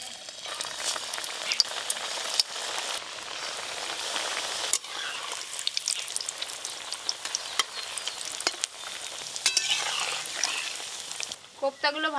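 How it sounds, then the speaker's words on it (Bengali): Kofta made from elephant foot yam frying in hot mustard oil, a steady close sizzle with bursts of crackling and occasional stirring, running the whole time, with brief talk near the end. "এবার গরম তেলে দিয়ে ভালো করে ভেজে নেব"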